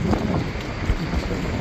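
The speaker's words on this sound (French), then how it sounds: "C'est assez dangereux le vent." Strong storm wind in Spain, a loud, steady roar buffeting the microphone throughout, with low rumbling gusts and no talk.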